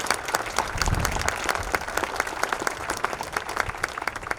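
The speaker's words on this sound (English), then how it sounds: "the chairman deserves a round of applause" A crowd at a groundbreaking ceremony applauds the chairman, moderately loud clapping with distinct individual claps standing out, continuing evenly without talk.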